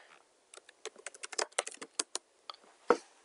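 A password is typed on a computer keyboard in quick, irregular bursts of light, close keystrokes with brief pauses between them.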